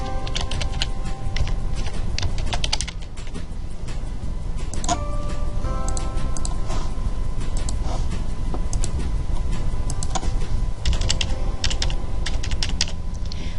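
Fast, irregular clicking of a computer keyboard as information is entered into an insurance quote form, steady keystrokes close up with brief pauses and no talking.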